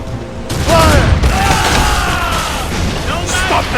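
Ship cannons fire a broadside in the Assassin's Creed Rogue video game, a burst of overlapping booms followed by a rumbling roar, with shouting voices over the battle noise.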